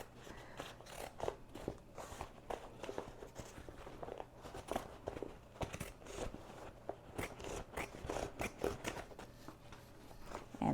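Scissors snip through embroidered appliqué fabric as excess material is trimmed away: a quick, irregular series of soft close-up cuts and crisp clicks, quiet and unaccompanied by speech.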